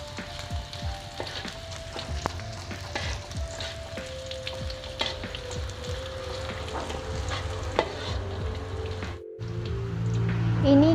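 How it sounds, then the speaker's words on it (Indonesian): Shallots and garlic sautéing in hot oil for a simple stir-fried water spinach dish, a steady close sizzle and crackle with occasional utensil scrapes, briefly cutting out near the end before the frying resumes louder. "Ini kita tumis terlebih dahulu sampai tercium bau harum dari bawang merahnya."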